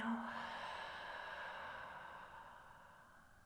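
A long, audible exhale during a yoga breathing sequence, a soft breathy sigh that starts with a light catch and fades out slowly over several seconds, close and quiet.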